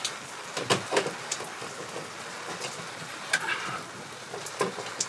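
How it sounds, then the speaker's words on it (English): Rain falls steadily outdoors during a Tesla charger plug installation, a soft continuous patter with scattered sharper drops and a few brief knocks, fairly faint throughout. "So now it's starting to rain even a little more for me"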